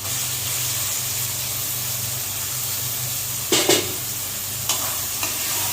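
Small fish in a spiced curry fry over lowered heat while being stirred in a pan. A steady close sizzle runs throughout, with a few sharp scraping knocks of the spoon against the pan near the end. No one speaks.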